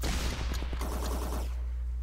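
The Spiker weapon goes off in ShellShock Live, a rapid burst of crackling pops in quick succession over a steady low hum, cutting off abruptly partway through.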